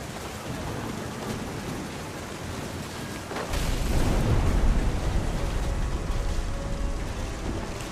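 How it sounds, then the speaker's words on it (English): Steady rain in the video game Edith Finch swells into a deep, rolling thunder rumble midway through, then continues as a loud, dense downpour with the thunder fading slowly. "The thunder sounded much too close and full of angry power."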